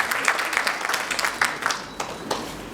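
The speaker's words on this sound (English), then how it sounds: "Please clap for yourself." A seminar audience at a keynote on school curriculum gives a round of applause, a steady wash of many hands clapping at moderate distance, fading slightly toward the end.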